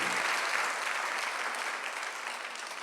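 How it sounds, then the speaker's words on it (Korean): A church congregation applauds at a Sunday worship service, producing a dense, even patter of clapping that fades slightly over a few seconds, with no voices on top. "박수 한번 드리세요."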